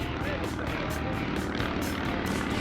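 A vintage Deperdussin Type T aircraft at an airshow in Meaux, its propeller engine giving a loud, continuous pulsing drone close by, with a voice heard over it.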